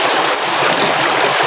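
Stream water flows with a steady, close, broadband rush and no breaks.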